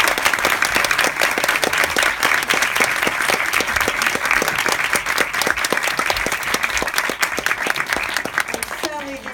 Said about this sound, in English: This man deserves much applause.